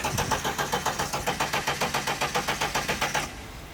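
A BMW E30 engine cranks with a quick, regular rhythmic churn for about three seconds, loud and close, then drops away as it stops or catches.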